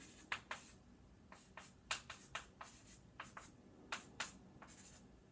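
Pen or marker strokes while writing out a cube-root calculation by hand, a series of short scratchy bursts in an irregular rhythm, close and quiet with no talking.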